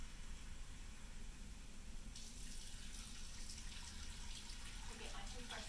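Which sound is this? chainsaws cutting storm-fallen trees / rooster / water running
water running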